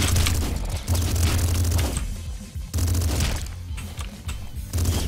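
Hyper rifle fire from the Nuclear Throne video game comes in loud, rapid bursts of game gunfire with booming impacts. Short gaps separate the dense volleys.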